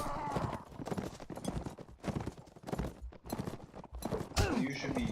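Horses gallop across the battlefield in the video game Mount and Blade Warband, a dense, close rush of hoofbeats mixed with combat noise and a brief whinny near the end.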